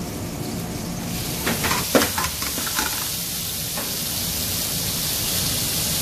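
Zucchini frying in a pan, a broad steady sizzling hiss with a brief cluster of stirring clinks and scrapes near the start, then an even frying sound.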